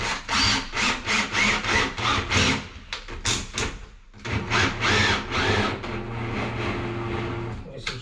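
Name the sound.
power drill drilling wood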